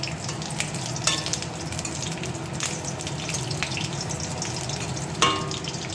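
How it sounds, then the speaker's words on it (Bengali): Bay leaf with dried and green chillies dropped into hot oil in a kadai give a loud, steady sizzle and crackle, broken by a few sharp utensil clinks. "কড়াইয়ের মধ্যে দেখো তেল দেওয়া হয়ে গেছে এইবার দেব আমি তেজপাতা শুকনো লঙ্কা কাঁচা লঙ্কা"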